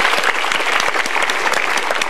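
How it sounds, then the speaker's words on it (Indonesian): The crowd at a stand-up comedy night claps loudly and densely for a comic, a brief, continuous burst of many hands with no pause. "Tepuk tangan boleh sekali lagi untuk teman saya Anyun."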